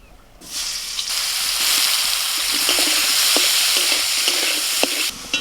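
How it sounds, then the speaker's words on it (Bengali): Boiled young jackfruit pieces hit hot oil in a pan and burst into a loud, steady sizzle with light stirring clicks. The sizzle runs for about five seconds before cutting off. "এখন সিদ্ধ করে এঁচোড়গুলোকে একটুখানি ভেজে নেব"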